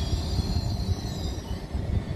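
An Italian passenger train rolls along the rails with a steady low rumble and faint high wheel squeal, heard from inside the carriage with no one talking.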